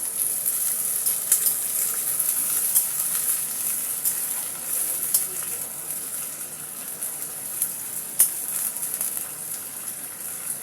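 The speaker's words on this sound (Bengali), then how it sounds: "কারি পাতাটা একটু ভেজে নিই।" Curry leaves frying in oil in a home kitchen, a continuous bright sizzle with scattered sharp spits and pops, fairly close and moderate in level with no talk.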